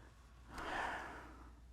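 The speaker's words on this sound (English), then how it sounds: "I just gasped." A person's sharp gasp, a brief breathy intake of air rising and fading over about a second, close and fairly quiet with no talk.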